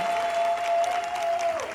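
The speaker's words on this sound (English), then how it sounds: "So give yourselves a round of applause for being out here." Outdoor crowd applause at a Big Oil Resistance Tour rally stop in Oakland, a dense steady clapping wash with a few whoops, lasting under two seconds and tapering at the end, with a faint tonal whistle running underneath.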